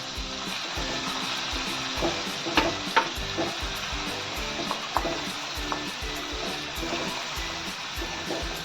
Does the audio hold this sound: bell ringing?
no